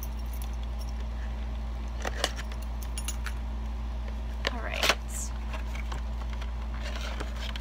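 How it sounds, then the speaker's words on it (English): Keys jangle near the microphone in scattered clusters, grabbed to break the seal on a package, over a steady low hum with some faint speech. "Let me grab my keys and break the seal."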